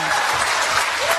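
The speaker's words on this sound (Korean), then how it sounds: "저는 그냥 한 시민으로서 좀 큰 박수를 함께 드렸으면 좋겠습니다" Sustained applause from a seated audience at a Democratic Party panel discussion on the candlelight revolution, steady dense clapping filling the hall without pause, with faint voices mixed in.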